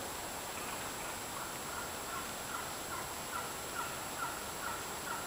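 Wild turkeys gobbling in the woods, faint and distant, a series of soft repeated calls over a steady background hiss.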